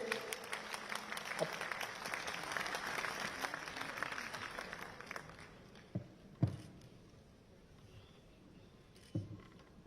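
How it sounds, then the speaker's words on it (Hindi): Applause from an audience at a Delhi University book launch welcomes a speaker to the stage, dense at first and then thinning into a few scattered claps and knocks. "तालियों से उनका स्वागत करें"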